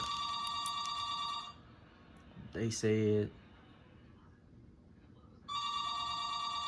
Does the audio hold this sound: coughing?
no